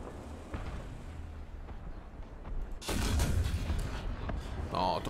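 Tank cannon fire in the War Thunder video game, a low rumbling battlefield bed with distant booms, then a heavy close shot and its rolling echo, followed by another burst near the end; brief voice overlaps.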